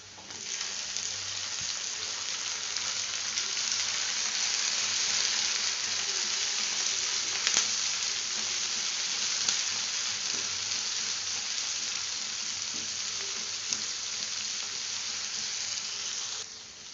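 Onion and tomato frying in a pan for a potato palak masala give off a steady, even sizzle that stays close and constant throughout, with no talking.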